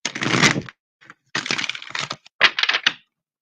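Brisk riffling and snapping of a tarot deck being shuffled, in several quick bursts with short pauses, close and fairly loud.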